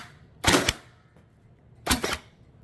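A Blizzard Pyro blaster fires twice, each a sharp burst of rapid snapping shots about a second and a half apart, close and crisp, with quiet in between and no talk.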